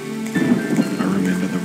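Steady rainfall from the drama game I Remember The Rain, a dense continuous patter with a low rumble that may be thunder, moderately loud and unbroken, with no voices over it.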